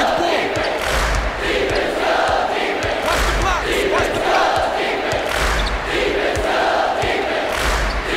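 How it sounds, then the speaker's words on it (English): A college basketball arena crowd roars steadily throughout, a dense, loud wall of cheering and yelling with rhythmic thumps underneath. "That crowd's in it, baby."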